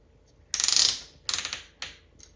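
Three short mechanical bursts come from a sewing machine stitching through towel fabric, each a quick ratcheting clatter, the first longest and the others briefer, close by with quiet between them.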